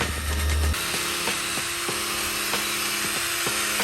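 A power polisher buffs gel coat on a boat, giving a loud, steady high whine that runs throughout, with a brief louder low rumble at the start and faint regular ticks underneath.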